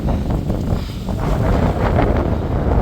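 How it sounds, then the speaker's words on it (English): Strong wind roars outdoors in a community garden, a loud continuous buffeting rumble pressing on the microphone with no letup. "this wind, y'all, this wind"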